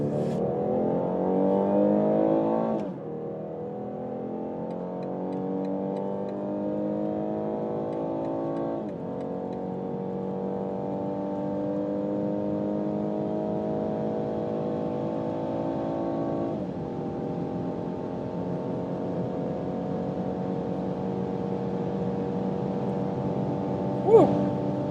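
A car accelerating hard in sport mode with manual S shifting: steady engine drone rising in pitch through several gears, each shift marked by a drop and renewed climb, heard from inside the cabin.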